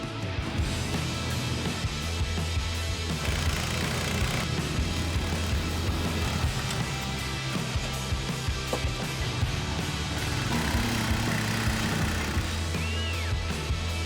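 A Tofalar Tundra motor sled runs its engine with a steady, broadband mechanical roar and low rumble that holds evenly close by for the whole stretch, with no voices over it.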